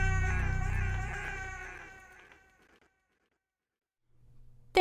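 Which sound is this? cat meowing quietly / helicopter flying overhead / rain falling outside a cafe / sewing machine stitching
cat meowing quietly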